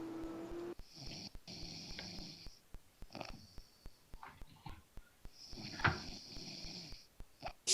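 A person snoring in rhythmic rattling breaths, each long inhale snore followed by a pause, repeating steadily at a modest distance, with faint clicks between.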